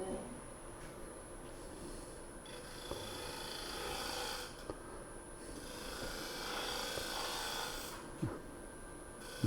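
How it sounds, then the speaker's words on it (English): A deep fluted fingernail-ground bowl gouge on a wood lathe cutting redwood gives a faint, steady scraping rasp over the lathe's constant hum, with a few small ticks and catches. "this is a deep fluted fingernail ground bowl gouge"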